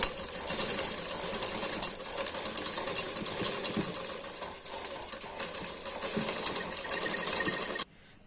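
A sewing machine stitches a navy blue strip onto a katori blouse neckline, a close, steady rapid needle chatter with small irregular clicks, running continuously before cutting off abruptly at the end.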